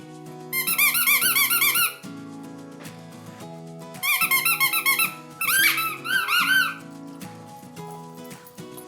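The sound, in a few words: squeaky dog toy ball being squeezed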